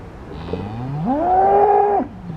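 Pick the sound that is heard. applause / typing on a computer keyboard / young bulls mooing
young bulls mooing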